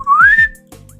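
A voice imitates a whistle from a hallway: a single rising whistled tone that climbs and holds briefly, followed by a short low vocal sound, close and fairly loud.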